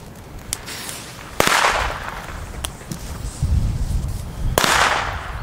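Several sharp bangs from 1.5-gram Katan B-Böller firecrackers go off one after another, each cracking loudly and echoing briefly outdoors, with a low rumble in between.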